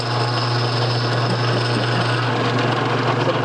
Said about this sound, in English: we're going to drill a 3/8 hole